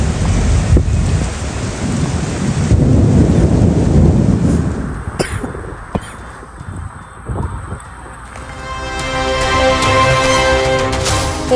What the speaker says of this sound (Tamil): ரஷ்ய தலைநகர் மாஸ்கோவில் கனமழையால் வெள்ளப்பெருக்கு.